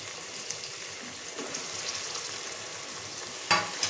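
Sliced big onions sizzle gently in a pan for hotel-style egg fried rice, a soft steady frying hiss with light stirring and a brief scrape near the end.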